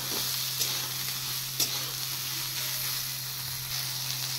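Soya chunks frying in hot oil, a dense, even sizzle and hiss held steady throughout, with a faint stir or tap now and then.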